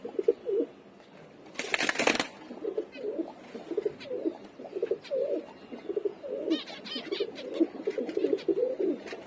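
Pigeons and finches bathing in a water dish on a hot day, with repeated soft cooing and chirps running throughout, a brief loud burst of splashing or wing flapping near the start, and light rustling later.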